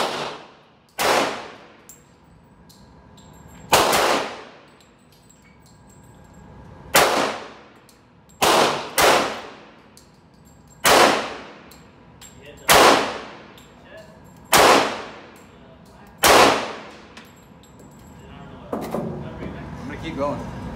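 Pistol shots from a Les Baer Custom Carry 1911 ring out at an outdoor range, nine sharp loud reports spaced irregularly a second or two apart, each with a ringing decay, and faint talk between them.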